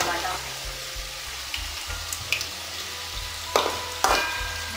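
Cauliflower pieces for Andhra-style Gobi 65 sizzle as they fry in hot oil, a steady crackling hiss with a few sharper spatters, fairly quiet and close.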